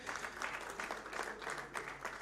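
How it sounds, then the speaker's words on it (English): A conference audience claps steadily, with a brisk, even patter of many hands heard up close and without a break. "let's give a round of applause for panelists."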